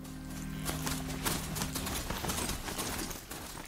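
Rapid clip-clop of horse hooves on hard ground in the video game Horizon Zero Dawn, a steady galloping rhythm over a dense background of ambient noise.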